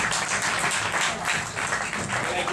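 Continuous applause from an audience at a talk supporting Rwanda, a thick, steady wash of clapping heard close and fairly loud throughout.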